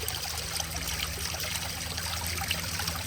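Water trickling outdoors along a nature walk, a soft steady dribble under a constant low hum, fairly faint and continuous with no voices.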